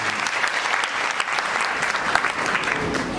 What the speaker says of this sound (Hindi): सबके लिए एक बार जोरदार तालियां